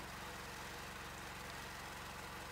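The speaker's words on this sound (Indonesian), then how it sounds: "Ini mesin pelet 4 roller mini." A mini pellet-making machine with four rollers runs at close range, giving a continuous loud engine-like drone with a steady pulsing throb and no pauses.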